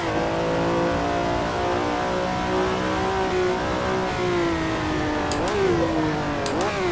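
A high-revving Ferrari 330 P4 race car engine in Assetto Corsa drones steadily on the Targa Florio, then pitch drops sharply as it downshifts with quick blips near the end.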